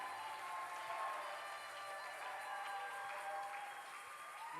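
A church congregation claps for Jesus, a steady wash of applause from many hands, held at an even level throughout, with faint music underneath.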